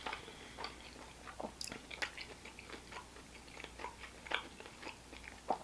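Quiet crunching bites and chewing on a jerk shrimp taco topped with pineapple and lime juice, without cheese, heard as a string of close, soft crisp clicks spread irregularly across several seconds.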